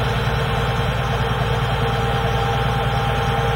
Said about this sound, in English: the engine is running at idling